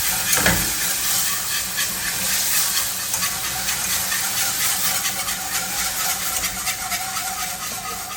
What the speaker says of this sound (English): We're going to go ahead in with some half and half. And I'm going to continue to whisk as we do that.